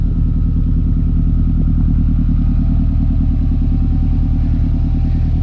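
A car exhaust idling loud and close, with a steady, deep, lumpy engine rumble and pulsing throb that holds without obvious revs.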